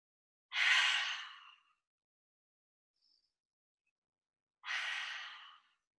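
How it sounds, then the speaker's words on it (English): Two long, audible exhalations during a yoga class, separated by several seconds of silence, close and fairly soft. "Take 3 cleansing breaths."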